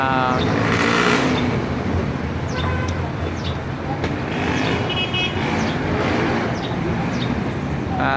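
Road traffic at an overpass crossing in Dasmariñas City, with a steady wash of passing cars and motorcycles and a few short horn toots throughout.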